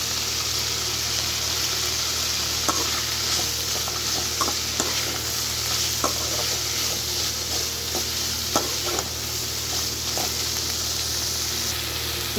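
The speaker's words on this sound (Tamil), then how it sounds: "தக்காளி நல்லா வதங்கிட்டு வருதுங்க." Tomato, coconut and poppy seeds sauté in a pan for a rajma gravy, giving a steady sizzle and frying hiss broken by occasional soft stirring clicks, with no talking.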